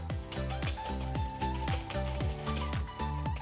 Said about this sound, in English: I'm just going to whisk up 75 grams of caster sugar into my egg.